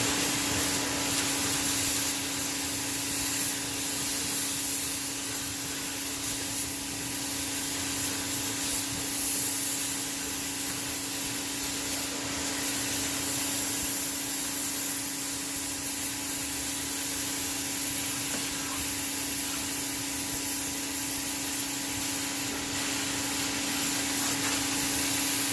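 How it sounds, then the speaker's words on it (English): Shop vac running steadily inside a car's engine compartment, a constant loud whooshing roar with a fixed tonal whine that holds unchanged for the whole stretch. "So I'm going to take this shop vac, put it in the corner there, right over there, and we're going to turn it on."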